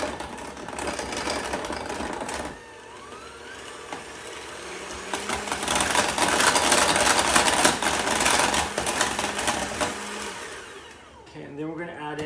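An electric mixer whirs steadily through cake batter of flour and pineapple juice, a loud continuous motor whine that swells and dips as it works, then cuts off near the end.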